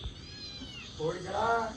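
A cat meows in two drawn-out calls close by near the end, over a quiet room with faint background noise.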